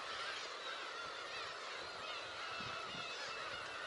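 A large flock of black-tailed gulls lifts off together in a sustained, dense rush of wingbeats and calls, loud and continuous throughout with no talking.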